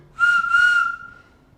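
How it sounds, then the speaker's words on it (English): A single sustained whistle at a steady pitch, the Brian Kershaw whistle, sounds clearly and close by. It holds for under a second with a slight breathy edge, then fades out, alone with no talk. "the Brian Kershaw whistle"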